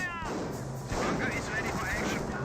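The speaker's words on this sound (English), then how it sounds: "Half-track's getting some good suppressive fire right there." Half-track suppressive gunfire in the video game Company of Heroes rattles on continuously and loudly throughout, mixed with battle crashes and game effects.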